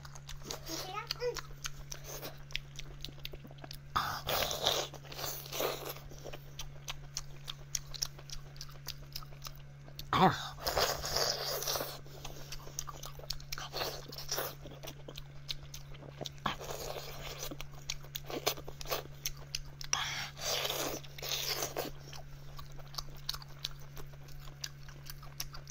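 Close-up eating of big sweet and spicy beef intestine in a spicy-food mukbang, with bursts of wet chewing and biting at intervals under a steady low hum, and a few quiet voices in between.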